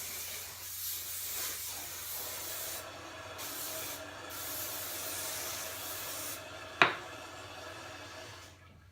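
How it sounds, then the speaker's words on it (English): Hairspray misted onto styled hair in a long steady hiss that fades toward the end, with a single sharp click or tap near the close; no talking. "since I'm done, I'm going to do one last spray."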